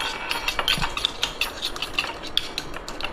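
Potato poha being stirred and mixed with sugar, the utensil clinking and scraping against the cookware in a quick run of light, close taps with no talking.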